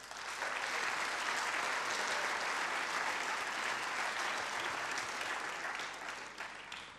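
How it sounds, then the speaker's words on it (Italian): An audience at the Venice Panathlon Day sports event applauds, sustained dense clapping from many hands that holds steady for several seconds and fades slightly at the end. "e per loro vi chiedo un grosso applauso."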